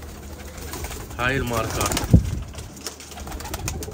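Pigeons cooing in a loft of newly arrived birds, soft low coos near the mic while someone talks over them.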